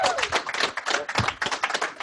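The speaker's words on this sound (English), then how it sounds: "let's get a huge round of applause" A crowd at a corporate meeting breaks into applause, with dense overlapping claps rising and falling in short waves over about two seconds, fairly loud and close.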